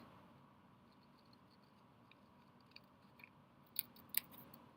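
Scissors cut a piece off a sheet of folded paper with a few faint, quiet snips that grow slightly crisper near the end against a soft background hiss.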